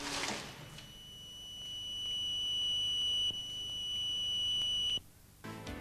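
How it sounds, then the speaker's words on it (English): A steady high-pitched electronic tone from an Intimus 16 86 industrial shredder baler signals that bale volume is reached, sounding continuously for about four seconds over machine hum before stopping abruptly. "An optical and acoustic signal indicates that the pressing volume has been reached"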